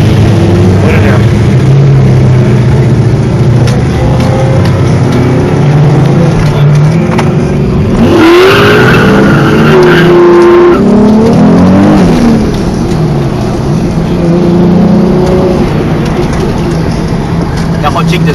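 Cars race at a Powerplay track day in Brisbane. Engines drone loudly and continuously from close range, revving up and down as cars pass, with people talking over the noise.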